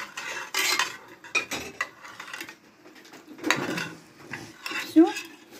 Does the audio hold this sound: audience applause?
no